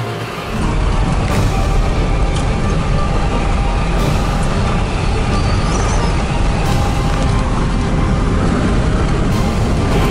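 Sandstorm wind blasts in a dense, loud, continuous roar that does not let up, with the low rumble heavy throughout and no voices over it.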